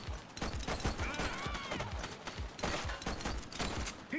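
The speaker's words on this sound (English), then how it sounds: "He's shooting." Rapid gunfire in a police tactical video game: dense bursts of sharp, close shots fire in quick succession throughout, with ricochet whines and impacts mixed in.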